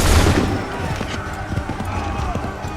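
Musket volley from massed soldiers in Assassin's Creed III Remastered, a dense burst of overlapping shots at the start that trails into a busy crackle of scattered gunfire and battle noise.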